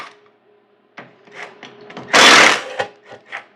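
An impact driver works on bolts of a Honda lawn mower, giving a short burst of loud buzzing hammering among a few lighter taps and clicks, with no talking.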